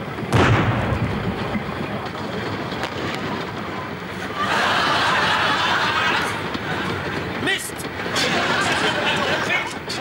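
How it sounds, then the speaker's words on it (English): Artillery shell explosions in a wartime comedy scene: a sharp, loud bang early on followed by rumbling blasts and noisy bursts, with voices talking around the impacts. "Put your fingers in your ears. There may be a big bang."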